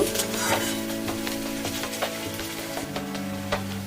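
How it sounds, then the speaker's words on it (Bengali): Chopped onions fry in oil seasoned with a bay leaf and cumin, giving a loud, steady sizzle close up with occasional light stirring scrapes throughout. "পেঁয়াজটা আমার বেশ লাল লাল করে ভাজা হয়ে গেছে"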